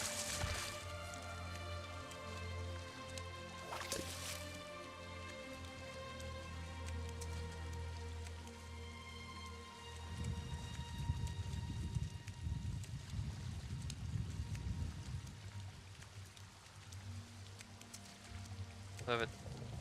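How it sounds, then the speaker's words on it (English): Heavy rain pours in the video game Elder Scrolls Online. A steady wash of drops grows denser and rougher partway through, with game tones and sounds over it. "Oh, the main bit of the rain has showed up."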